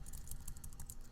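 Quiet, steady tapping of a computer keyboard as code is typed, a fast run of light keystrokes with no talking.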